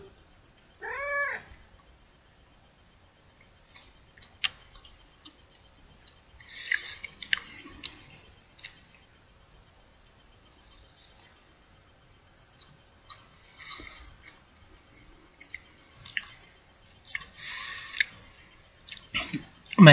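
Someone eats a Little Debbie Pumpkin Delight, a pumpkin snack cake with a gel-like filling, with soft intermittent chewing and small clicks close by, while a cat meows briefly near the start.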